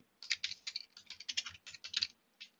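Brisk typing on a computer keyboard while creating a text document, a close, steady patter of distinct key clicks with short pauses, no voices.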